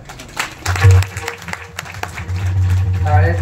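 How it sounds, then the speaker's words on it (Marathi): Audience applause at a Marathi kalyache kirtan, scattered clapping near and loud over a steady low harmonium-like drone, with someone talking over it. "तुम्ही टाळी वाजवायला त्यांच्यासाठी कमी करता"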